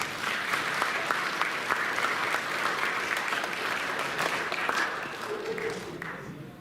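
An audience at a fundraiser show applauds a volunteer with brisk, full clapping that holds steady and then tapers as a voice comes in near the end.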